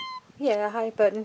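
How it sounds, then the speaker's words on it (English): A house cat meows twice, close and clear, in a home workshop where a compost bin is being built, after a brief electronic tone at the start. "Excuse the cat here."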